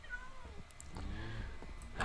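A cat in a Minecraft-style video game gives a couple of soft, drawn-out meows, quiet and close, with no talking over them.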